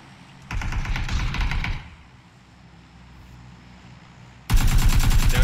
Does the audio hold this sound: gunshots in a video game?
yes